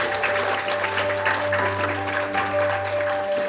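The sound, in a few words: applause at an award ceremony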